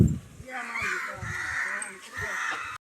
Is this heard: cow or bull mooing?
no